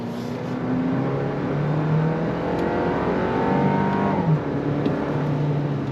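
A 2025 Toyota Land Cruiser's 4-cylinder turbo hybrid engine, paired with an 8-speed transmission, accelerating under throttle: a steady, fairly loud drone whose tone climbs as it builds, heard from inside the vehicle with no talking.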